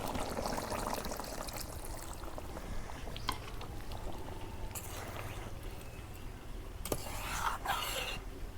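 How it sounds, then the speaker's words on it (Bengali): Water poured into a pan of broiler chicken curry, a faint, continuous splashing and trickling heard close by in a home kitchen. "এখন একটু জলের পানি দিই।"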